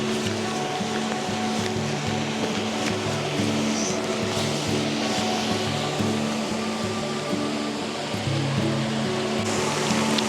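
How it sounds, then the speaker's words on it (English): A stream in Glencoe in the Scottish Highlands rushes continuously in a dense, steady wash of water noise with a low hum beneath, close and unbroken. "Steffi wanted to see all this running water."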